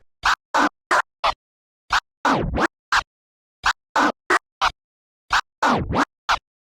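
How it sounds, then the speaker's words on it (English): A turntable transformer scratch moves a record sample forward and back, cut into sharp rhythmic bursts by the crossfader. Short stuttering chops alternate with longer swept strokes, loud and close with silent gaps between them. "the sound of 2 transformers going forward and back"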